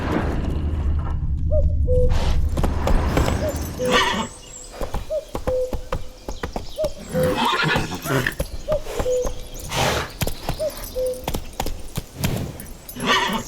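Roach the horse in The Witcher 3 galloping with rapid clip-clop hoofbeats and repeated whinnies and snorts over an outdoor game soundscape, near and fairly loud throughout, with no talking.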